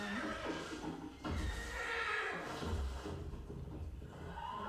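A horse whinnies loudly over a busy background of music and other sounds, its call rising and falling across several seconds.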